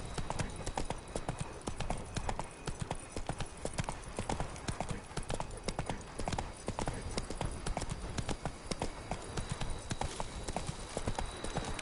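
A horse gallops steadily in The Witcher 3, its hooves beating a fast, continuous clip-clop rhythm that stays close and loud throughout.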